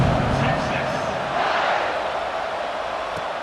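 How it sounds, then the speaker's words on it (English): A football stadium crowd at BYU versus Texas roars and buzzes steadily after a score, a dense wash of massed voices holding at a loud, even level throughout. "this crowd is buzzing after that last score"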